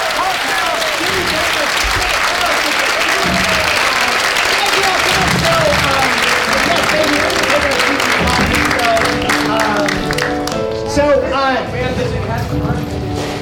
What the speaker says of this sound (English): can we do a tremendous round of applause for all three of our guests?